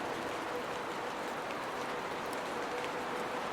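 Steady rain falls in wet Michigan woods, a soft, even hiss of drops with no breaks, fairly faint and constant.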